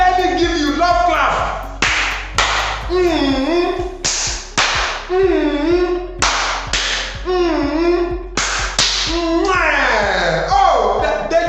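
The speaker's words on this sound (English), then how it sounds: "let me give you love clap" A classroom gives a rhythmic patterned clap, sharp crisp claps in repeated groups with chanted children's voices between them, loud and close.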